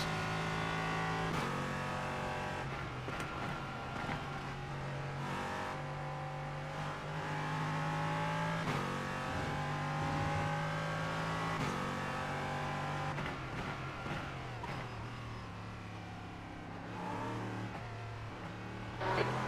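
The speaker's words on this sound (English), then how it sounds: "It's like it backfires every time you shift." A race car engine in the iRacing video game revs and climbs through gears in a steady run, with sharp backfire pops and cracks at each shift, loud and continuous throughout.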